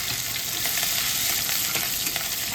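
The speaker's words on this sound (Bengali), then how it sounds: "এবার আমি রসুন আর আদাটা দিয়ে দিচ্ছি আগে।" Garlic and ginger frying in hot oil alongside dried red chillies, a steady close sizzle and crackle that holds evenly throughout with no talking.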